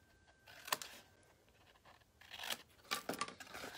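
Scissors snip through paper card flaps in a quiet room, with a few short, crisp cuts standing out against faint rustling.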